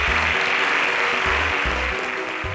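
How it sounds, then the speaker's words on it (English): A studio audience at a televised STEM competition semi-final gives a sponsor a round of applause, full and sustained clapping over low rhythmic music beats, easing slightly toward the end. "Please, can we give them another resounding round of applause?"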